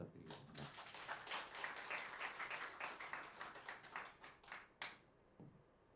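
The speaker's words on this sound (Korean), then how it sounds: "오늘 마지막 곡 여러분들 뜨거운 박수로 열도록 하겠습니다. 박수 부탁드리겠습니다." An audience at a traditional Korean music concert claps warmly, a dense burst of applause lasting several seconds before fading out abruptly.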